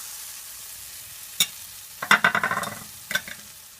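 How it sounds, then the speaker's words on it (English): Butter dropped into a hot pot on the stove: after a quiet start, a sharp clack and then a burst of crackling sizzle with a rapid series of pops, fading and flaring again near the end. "here I have a pot on the stove, it's hot. So I'm just gonna add my butter to it"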